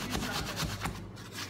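An apple being grated by hand on a grater that is not very sharp, heard as a series of short rasping, rubbing strokes in a steady back-and-forth rhythm, close and fairly quiet, with no talking.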